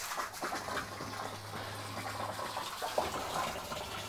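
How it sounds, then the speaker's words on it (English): Hose water stirring up sediment in a hydroponic nutrient film reservoir, a steady rushing gush of water with a low hum underneath, continuous and fairly close. "Just using a hose or something, we kind of wanna stir up that mess at the bottom so it exits out through our drain."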